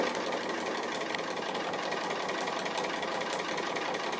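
Sewing machine stitching the edge of an appliqué strawberry, a steady close mechanical whirring hum with rapid needle rhythm running continuously without pause or talk.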